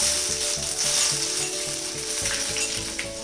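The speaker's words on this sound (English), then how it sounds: "the garlic, chopped garlic we have added after sauteing the whole spice" Chopped garlic sizzling in oil with cumin seed, black cardamom, bay leaves and green cardamom, a close, continuous frying hiss with light crackle and occasional stirring, no talk.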